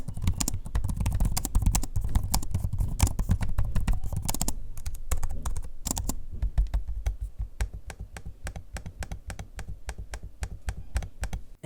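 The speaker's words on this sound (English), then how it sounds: "Here's a sample of me using both the keyboard and trackpad so you can hear for yourself what they sound like in use." Fingers type quickly on a 2-in-1 laptop keyboard in a dense run of clicky keystrokes, then slow to evenly spaced, sharper taps and clicks on the trackpad. Nearby and alone, with no talking.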